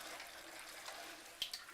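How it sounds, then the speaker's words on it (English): Cold tap water running from a faucet into a Kangen SD501 water machine container, a faint steady hiss of flowing water with a couple of small clinks near the end, no voices. "So I'm just going to turn the water on."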